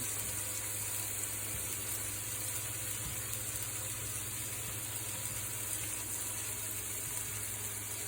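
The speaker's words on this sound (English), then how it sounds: "Veggies are stir frying." A steady, close sizzling hiss of vegetables stir-frying in a hot pan, continuous throughout with faint scraping underneath.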